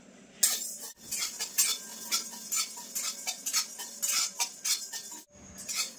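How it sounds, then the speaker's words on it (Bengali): Whole coriander, cumin and fennel seeds dry-roasting in a pan, heard as a rapid run of scraping, rattling strokes and light clinks from stirring, close and fairly loud, with brief pauses. "তো এখন আমি শুকনো খোলায় কিন্তু একটু ভেজে নেব"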